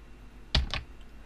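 Two quick, close keystrokes on a computer keyboard while typing a command on a Windows 7 PC.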